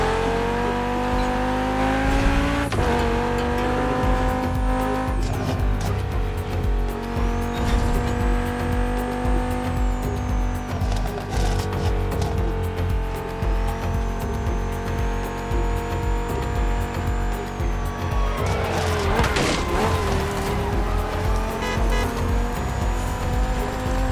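Muscle car engines roar in The Crew Motorfest racing game set in Hawaii, loud continuous revving with shifting pitch as the cars accelerate, and a burst of tire squeal and skidding late on.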